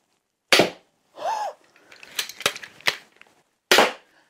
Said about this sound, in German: mit dem Metallmagazin verschießen wir Edelstahlnägel